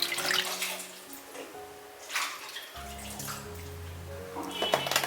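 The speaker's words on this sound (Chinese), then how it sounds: "把鱼骨简单清洗一下" Fish bones are rinsed under running tap water in a kitchen sink, giving a quiet gurgling splash that comes in short bursts and changes as the bones are moved, with no voices.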